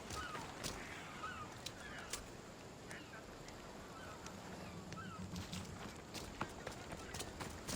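Faint horse hooves clip-clop in an irregular trotting rhythm in the video game Assassin's Creed Odyssey, set against quiet ambient game sound.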